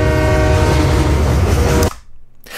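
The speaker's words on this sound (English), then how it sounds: "if we have our train sounds playing" Loud train sound effect with a horn blast and rumbling rail cars, continuous for a couple of seconds then cut off abruptly, followed by near silence and a brief click.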